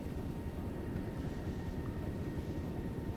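A helicopter flying overhead during a military field training exercise gives a steady, low, rumbling drone. It holds constant and fairly loud throughout, with no voices.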